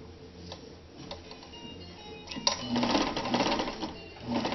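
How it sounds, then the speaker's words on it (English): A Kenmore 158.13033 sewing machine stitching, a steady fast ticking run that grows louder and busier partway through, close by with no talking. "just sewing on the right side now, see, sewing on the right over here, sews in reverse"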